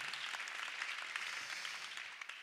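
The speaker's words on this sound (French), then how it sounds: "Voilà, et applaudissez-les." An audience applauds two guests at a French cultural talk event, a dense, even patter of many hands clapping at moderate distance, continuous for a couple of seconds with no talk over it.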